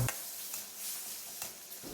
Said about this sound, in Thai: เดี๋ยวเราเจียวหนังไก่กันเลยนะครับ